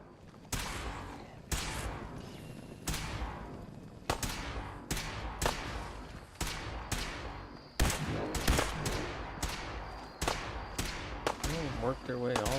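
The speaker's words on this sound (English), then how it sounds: "What are they shooting at?" Repeated gunshots crack out in irregular bursts, some single and some in quick clusters, loud and sharp with a ringing tail, while people talk in between.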